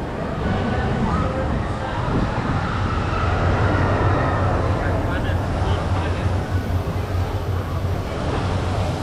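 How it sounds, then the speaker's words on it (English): A train rumbles past at Disneyland Resort, a continuous loud rolling clatter with low rhythmic thumps of wheels over rail joints, close by and steady throughout. "Wait for one more train go by so you can get better angle."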